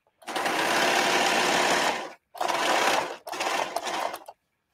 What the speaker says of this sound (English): the serger is just undefeated